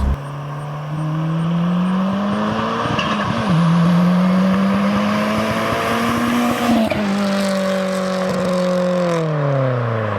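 An E85-fueled Mitsubishi Eclipse accelerates hard, its engine note climbing steadily through several gear changes with brief tire squeal, loud and close throughout with no talking.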